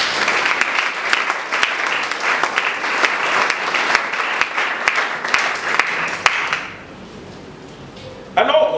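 A congregation at a memorial wake claps loudly and steadily to acclaim the Lord, a dense wash of applause that fades out after about six and a half seconds into a quieter room.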